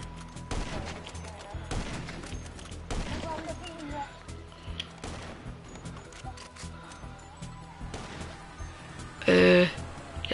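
Gunfire in GTA 5, scattered single shots and short bursts cracking out over several seconds amid game noise and chatter, with one loud burst near the end.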